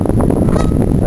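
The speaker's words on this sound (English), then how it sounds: "And there's the geese." Geese honk repeatedly along a river on an early spring walk, their calls loud and close over a steady outdoor rumble.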